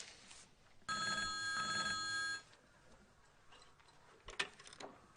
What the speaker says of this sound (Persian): سعید جان خودت برو جواب تلفن رو بده.